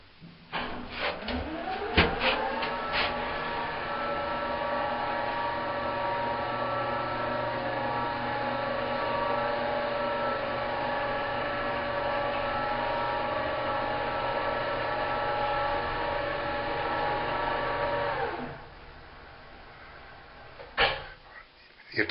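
A home elevator in a newly built house travels to the second floor. A clunk at the start gives way to a long, steady motorized hum, which winds down near the end and is followed by a few faint clicks.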